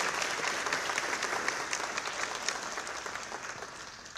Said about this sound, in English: Let's applaud now because you're in for a treat.